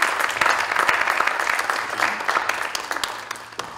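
Audience applause at a science awards ceremony in Turkey, a steady room full of clapping hands with scattered sharp claps, heard moderately close as a presenter speaks over it.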